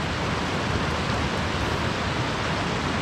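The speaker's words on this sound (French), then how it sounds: "Il y a beaucoup de bruit ambiant, hein. Il y a les cascades qui sont là-bas." A constant broadband roar of rushing water from waterfalls fills the scene evenly, heard from a short distance, with no other sounds.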